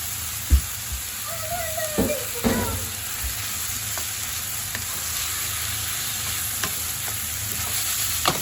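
Pork, heart and liver sauté in a hot pan with a steady loud sizzle, broken by a few sharp clanks and scrapes of stirring near the start and lighter taps later, close up.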